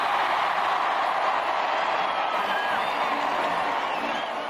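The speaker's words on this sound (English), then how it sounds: "Again, the crowd roared its request." A large crowd outside Buckingham Palace roaring and cheering for a royal couple: a dense, sustained wall of distant massed voices with faint whistles, steady in level throughout.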